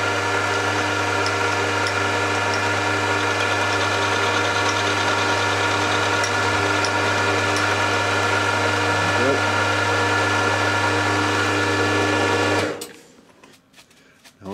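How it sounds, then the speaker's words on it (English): A milling machine cuts a flat on a casting, running steadily with a droning motor hum and a constant cutting whine, then stops abruptly near the end. "So first I'll just machine a flat so I know I've got a flat face to work to."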